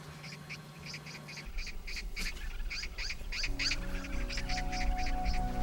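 Crows and magpies squabble in the wild, giving repeated harsh caws and chattering calls in quick bursts at mid-distance, over a low steady background drone.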